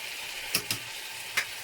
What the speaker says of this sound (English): And again give it a quick stir